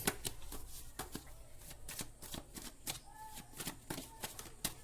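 Tarot cards being shuffled by hand in a quiet room, a steady run of crisp riffling snaps and slaps, with a few cards dropping loose, close and moderately loud with no talk.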